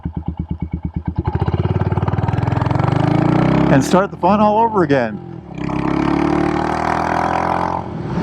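A modified Royal Enfield Hunter 350 motorcycle on the road, its engine thumping at low revs, then rising into a steady drone, briefly dropping under a man's speech, and returning as a loud continuous hum.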